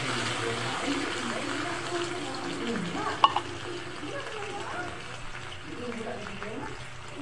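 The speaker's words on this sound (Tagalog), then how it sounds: "Nilagyan ko ng tubig kahit" Water hits a hot pan of sautéed sardines with tomato, setting off a steady frying sizzle with some stirring. A brief clatter comes partway through, and the cooking sound holds at a moderate level throughout.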